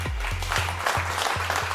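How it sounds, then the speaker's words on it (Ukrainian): Studio audience applauding at a Ukrainian hypnosis stage show, a brief wash of clapping beneath repeated low rhythmic pulses of music, fairly loud and continuous. "Оплески в студії."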